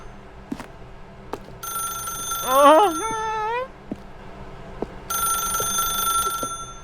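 A telephone rings in The Stanley Parable, a bright electronic trill repeating in bursts over a quiet room ambience with brief knocks, one wobbling tone sliding in between.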